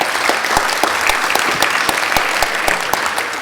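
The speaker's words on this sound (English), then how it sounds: "so a hand of applause for Jean." Sustained applause from a conference audience closing a border control and travel session, with steady, dense clapping and sharper individual claps standing out throughout.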